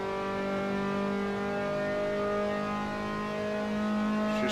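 Game engine of an Austin Healey Sprite in Assetto Corsa on Bathurst, droning steadily and straining under load as it climbs a hill, with a continuous harmonic whine and little variation, close and alone.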